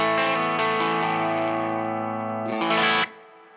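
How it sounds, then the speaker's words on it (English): Electric guitar played through the reverb side of a Strymon Flint pedal, a loud sustained chord ringing out with a smooth wash of reverb, then a brief brighter strum before the sound drops and decays. "And then I will turn on the right side, which is reverb."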